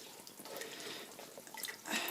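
Water splashes and trickles steadily in a sink, with small drips and a louder rinsing surge near the end.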